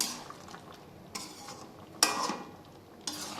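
A spoon scrapes and stirs shukto made with fried bitter gourd and coconut milk in a cooking pot. About four distinct stirring strokes land roughly a second apart over a soft background hiss, with no voices.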